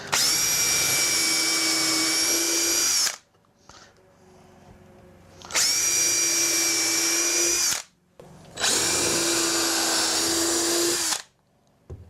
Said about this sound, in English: So we've got a countersink drill bit here.